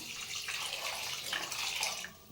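Water pours into a cooking pot in a steady, bright splashing stream for about two seconds, quiet and close, then stops.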